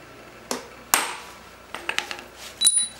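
A hammer striking a centre punch to mark a hub cover, a few sharp metallic taps with ringing pings, spaced out and close by.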